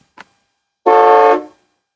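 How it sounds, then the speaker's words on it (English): A short click, then one loud, sustained car horn blast from a 1994 Buick Roadmaster Limited sedan, lasting about half a second before cutting off. "A horn."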